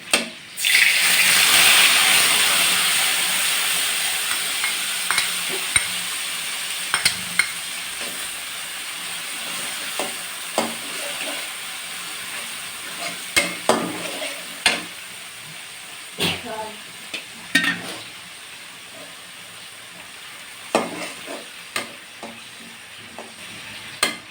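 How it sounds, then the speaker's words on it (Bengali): Spiced onion, garlic, cumin and tomato masala sizzles in a pan beside frying chicken and potato, with a steady close hiss broken by repeated clinks and scrapes of stirring. "এখন এইখানটাতে মশলা দিয়ে কষাবো এই যে সব মশলা পেঁয়াজ রসুন জিরা টমেটো এভরিথিং"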